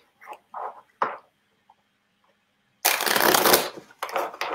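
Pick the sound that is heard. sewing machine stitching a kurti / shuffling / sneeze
shuffling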